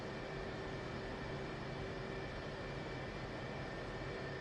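An F/A-18 jet engine runs steadily in the DCS flight simulator, a constant droning whine with tonal hums layered over a broad rumble, unchanging throughout.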